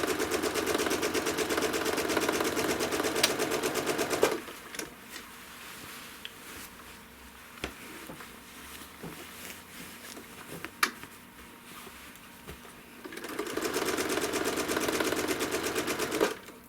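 A quilting sewing machine stitches a quilt in two steady runs, one at the start and one near the end, with a stretch of quieter needle work and small taps in between.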